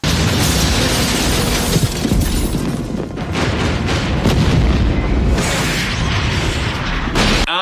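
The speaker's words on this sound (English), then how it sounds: "I knew all these explosions were just here to screw with Larry." Loud, continuous cinematic explosions from the film Hellraiser III: Hell on Earth, with booming blasts and crackling debris rolling one after another, dense and close with no talk.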